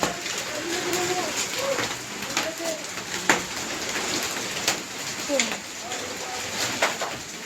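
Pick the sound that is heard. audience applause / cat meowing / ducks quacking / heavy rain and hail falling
heavy rain and hail falling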